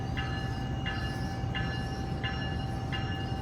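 Amtrak San Joaquin passenger train 710 at Emeryville station, a steady rumble under a high tone with a repeating chime-like pulse about every 0.7 seconds, no speech.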